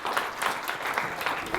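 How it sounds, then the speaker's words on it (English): Brief applause from a small school audience at a math show, a short burst of scattered clapping at moderate distance. "If you said 11, you get the applause,"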